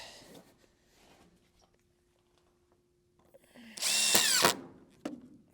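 A power drill drives screws into a shipping container roof, a short loud whirring burst after quiet moments with faint shuffling, followed by a brief clunk.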